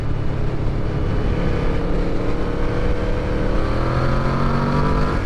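A Yamaha VMAX muscle bike's engine revs loud and close, its deep, truck-like roar rising in pitch through a long, continuous pull of acceleration with no speech over it.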